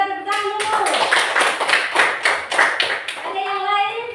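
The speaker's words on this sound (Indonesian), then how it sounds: "Oke, tepuk tangan dulu." A classroom of pupils claps together in a quick rhythmic burst of about three seconds, with voices before and after the applause.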